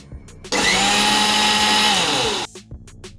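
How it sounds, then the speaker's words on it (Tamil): An electric blender beats egg and oil into mayonnaise in one loud, close burst of about two seconds of steady whirring. A brief quiet gap and a few small knocks follow. "இப்போ ஆயில் சேர்த்து ஒரு 5 to 6 டைம்ஸ் நல்லா அடித்து எடுத்துக்க போகிறேன்"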